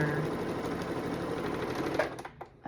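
A sewing machine stitches a red, white and blue quilt in a steady rapid whir, then slows and stops near the end with a few soft clicks and handling noises.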